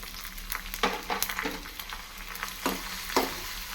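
Garlic and cumin paste hits hot oil already holding cumin, mustard seeds and dried red chilies, tempering for a Malabar spinach dal. A steady close sizzle carries a few louder bursts of spattering and stirring, with no talk.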